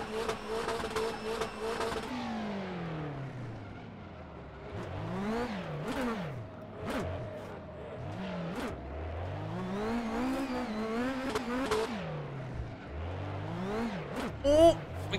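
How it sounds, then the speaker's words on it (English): Nissan S15 drifting in rFactor 2, its engine held at full revs with repeated rising and falling revving sweeps and some tire squeal, with a voice talking over it at times. "We just gotta keep the tires spinning and keep our engine at full revs"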